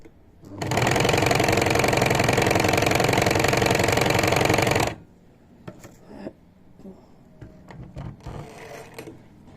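A sewing machine runs loud and steady while stitching a blouse, a continuous rapid whirring burst of about four seconds that stops abruptly and gives way to quiet handling noises.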